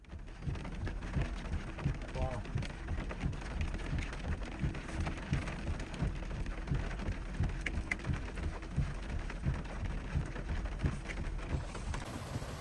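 Heavy rain falls steadily during a California atmospheric-river storm, a dense continuous hiss with pattering drops throughout and a low rumble underneath.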